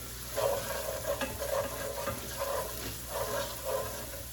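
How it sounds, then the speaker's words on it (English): Onions seasoned with salt and pepper sizzle in a pan while a spoon stirs them in slow, repeated scraping strokes over a steady frying hiss, close and clear, with no one talking. "Give that a nice stir."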